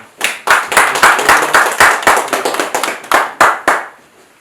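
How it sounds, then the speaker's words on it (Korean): Audience clapping at a sustainable development seminar as a chairman is welcomed to the front, with sharp individual claps close by, fairly loud and irregular, fading out at the end. "큰 박수 부탁드리겠습니다."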